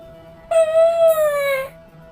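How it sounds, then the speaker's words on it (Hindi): A small child's crying wail rises and holds as one sustained, clear cry lasting a little over a second, alone in a quiet space. "ये बच्चे के रोने की आवाज कहाँ से आ रही है?"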